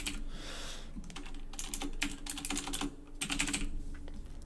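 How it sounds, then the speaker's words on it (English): Rapid keystrokes clatter on a computer keyboard in short irregular bursts while text is typed, close and fairly quiet with brief pauses between runs. "we're going to go ahead and type Rob's PC tutorials"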